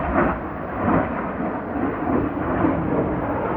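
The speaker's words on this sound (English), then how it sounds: "It sounds like some of the military jets that practice maneuvers around the mountains near my house." Military jet flying low over the mountains near Linville Gorge, a loud, continuous rumbling roar that surges slightly and rolls on without a break, with no voices over it.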